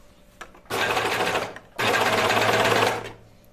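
A sewing machine stitches bulky knit sweater fabric in two loud, close bursts of rapid whirring, the first just under a second and the second about a second and a half, separated by a brief pause.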